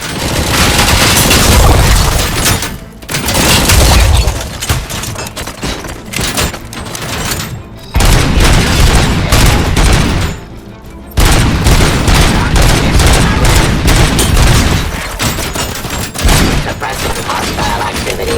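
Gunfire from the Robocop Rogue City video game rattles in dense, loud bursts, sustained volleys broken by a few short pauses, with heavy booming impacts mixed in.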